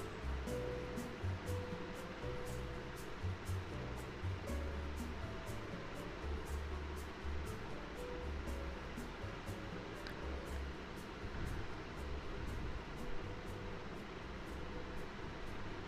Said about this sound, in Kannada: ಈಗ ಒಂದೊಂದಾಗಿ ವಡೆನ ಎಣ್ಣೆಯಲ್ಲಿ ಹಾಕ್ಕೊಳ್ಳೋಣ.